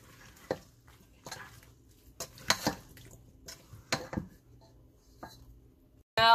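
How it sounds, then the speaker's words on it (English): Strawberries stirred in a bowl for a strawberry shortcake trifle, giving a few scattered soft wet clacks and scrapes of a spoon against the dish, close up with quiet pauses between strokes. "Just stirring my strawberries real quick."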